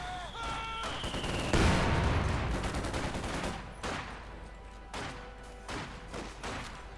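Gunfire in the Company of Heroes 2 strategy game, with a loud burst of rapid shots followed by scattered sharp reports and thuds in a busy battle soundscape.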